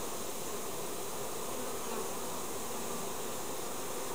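Honeybees buzzing around an open hive during an inspection, a dense steady hum filling the air close by, with no voices.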